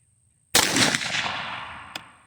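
A single sharp rifle shot from a 12-inch AR chambered in 22 TCM, loud and close, with a long decaying echo and a faint secondary impact crack near the end.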